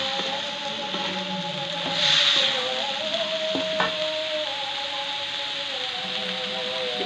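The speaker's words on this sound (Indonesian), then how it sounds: "Setelah itu kita masukkan ya Bunda buncisnya. Kita aduk-aduk lagi." Green beans and pumpkin stir-fried in a pan, a steady soft sizzle with occasional scrapes and clinks of stirring, close and continuous, with no talk.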